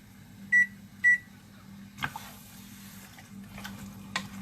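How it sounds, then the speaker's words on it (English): A kitchen timer is set while pork rib stew sautés on the stove in a home kitchen, giving two short, clear electronic beeps followed by faint button clicks and handling over a steady low appliance hum. "So I'm just gonna set my timer here"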